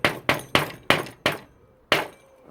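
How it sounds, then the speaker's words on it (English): Light hammer taps on a wooden beehive frame side piece being fitted into place: five quick sharp knocks in a row, a short pause, then one more, close and clear with no talk. "use a little tap with a hammer if needed"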